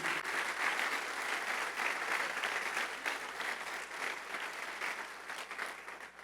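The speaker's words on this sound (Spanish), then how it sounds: "Dale un aplauso a Jesús." Church congregation applauding during a Spanish-language Christian sermon, a sustained, even wash of many hands clapping together, moderately distant and steady from start to finish.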